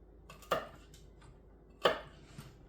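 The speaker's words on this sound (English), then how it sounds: "This is going to be a little bit more finely chopped than the onion" A chili pepper is chopped finely with a knife on a cutting board: two sharp, close chops about a second apart, with quiet pauses around them.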